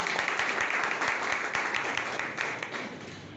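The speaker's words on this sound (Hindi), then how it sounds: "तालियां बजाकर उनका स्वागत कीजिए।" Steady applause from a television debate studio audience, many hands clapping continuously at a moderate, distant level with no pause.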